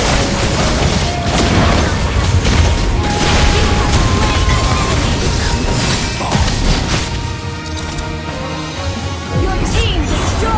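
A turret being destroyed in the video game Mobile Legends: Bang Bang, with loud booming crashes and whooshing impacts over dense continuous game action, and an announcer voice speaking over the mix.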